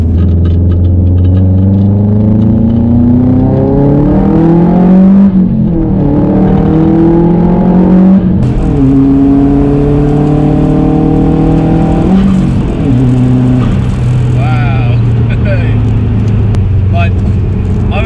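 A tuned 407 bhp Subaru Impreza WRX engine with catback exhaust revs loudly and close, its pitch climbing and dropping in repeated sweeps, with a voice occasionally audible beneath the roar.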